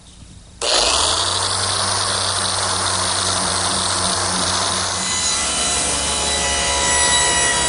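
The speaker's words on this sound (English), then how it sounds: "Now I've switched to my random orbit sander. I'm starting with an 80 grit" Random orbit sander with 80 grit paper working a wooden butcher block: a steady close whirring hum with a harsh abrasive hiss, starting suddenly and running continuously without speech.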